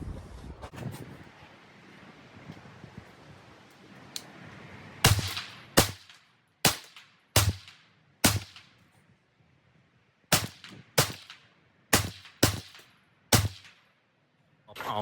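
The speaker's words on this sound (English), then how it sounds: "So let's take some shots at 25 on the bottom left target and at 50 on the bottom left target" A 10/22 rifle chambered in .22 LR fires at outdoor targets, about ten sharp, near cracks at roughly one-second intervals with short ringing decays, following a quiet, breezy stretch at the start.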